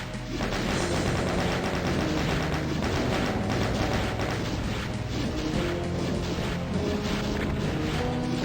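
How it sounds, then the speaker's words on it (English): Shotgun blasts and monster combat in Doom 64, dense and loud throughout with no quiet gaps. "Use the shotgun on this fellow."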